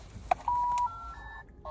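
A child's toy phone gives off a few electronic beeping tones: one short blip, then a longer steady tone and softer follow-up beeps, close and clear over a quiet room.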